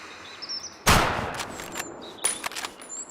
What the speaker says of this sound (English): Let me shoot this one more time.